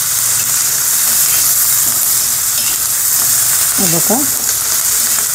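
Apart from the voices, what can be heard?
garlic and cumin sizzling while frying in pan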